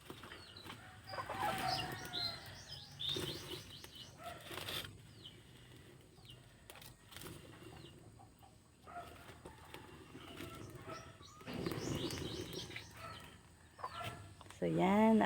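Chickens cluck and squawk close by in irregular bursts, with wing flaps and general yard noise around them.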